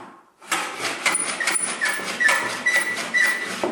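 A hand plane slides along a wooden shooting board, its blade shaving the edge in a series of rapid rasping strokes with a squeaky, dry scrape, starting after a brief pause and continuing close and steady.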